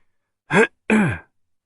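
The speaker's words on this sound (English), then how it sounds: "he broke the silence by giving a completely artificial and theatrical cough" A single artificial, theatrical throat-clearing cough, two short voiced bursts close together, near and clear against silence.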